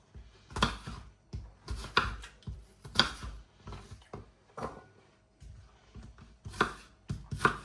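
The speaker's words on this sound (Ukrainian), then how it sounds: "я нарізаю яблучко на Кубики" A knife chops an apple into cubes against a cutting board, close and fairly quiet, in an uneven series of sharp thuds.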